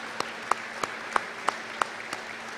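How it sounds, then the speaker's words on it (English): A few sharp, evenly spaced hand claps ring out at a live-streamed community gathering, about seven crisp slaps in a slow, regular rhythm over a quiet room hum. "So how about a big general warm round of applause for the three people who just gave us"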